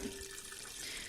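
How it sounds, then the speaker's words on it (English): Tap water runs steadily into a pot of dried lye-treated white corn, a soft continuous rushing splash heard up close without any voices. "And then I'm going to add some water."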